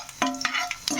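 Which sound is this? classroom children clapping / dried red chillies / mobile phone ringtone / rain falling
dried red chillies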